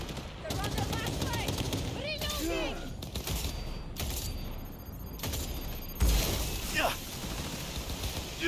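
Rapid bursts of gunfire from a weapon in the video game Cyberpunk 2077, dense and loud throughout, with a voice talking over the shots.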